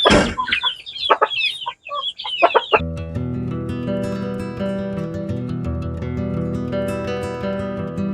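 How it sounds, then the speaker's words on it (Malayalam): Hens cluck close up in a poultry coop as wood sawdust is scattered into the netted run, the birds mistaking it for feed; busy overlapping calls and squawks first, then a steadier dense chorus of clucking. "കോഴികൾ വിചാരിക്കുന്നത് കഴിക്കാനാണ്."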